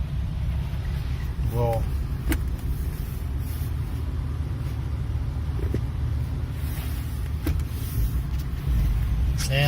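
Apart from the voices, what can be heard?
1991 Toyota FJ80 driving in high range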